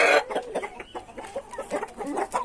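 Hens and Indio gamecock-type chickens cluck close by on a hot day, with short repeated clucks in an uneven rhythm and no talking.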